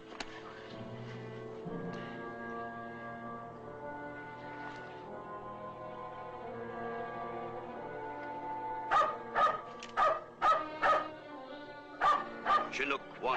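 A dog barks in a quick run of sharp, close barks, with some yips, after a stretch of people talking in a Western drama setting.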